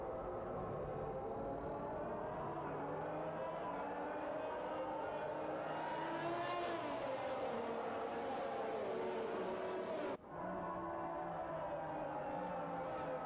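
Formula 1 race cars in F1 2021 at a virtual Australian circuit, a steady droning engine whine that rises and falls in pitch as the cars run, with one sharp break near the end.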